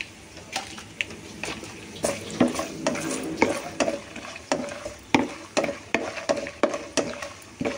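Tempering of urad dal, mustard seeds, cumin, dried red chillies and cashews frying in oil in a pan, with a spoon scraping and stirring in steady repeated strokes over a continuous close sizzle.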